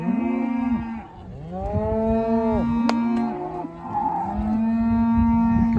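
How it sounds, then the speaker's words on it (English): A cow moos repeatedly and loudly close by, long drawn-out calls following one another with short gaps, with no talking. "Liam, your cow's being a bother."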